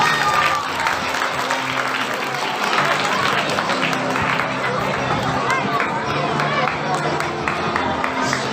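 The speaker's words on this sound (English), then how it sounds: "Come on, keep clapping" Steady applause from a school audience during a prize distribution at a festival, continuous clapping with background crowd chatter throughout.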